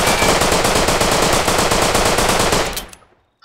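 Rapid automatic fire of 5.56 rounds from a rifle with a scope in the game Rust, loud, dense and continuous for almost three seconds before cutting off into a short, fading tail.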